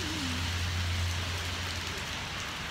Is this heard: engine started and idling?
no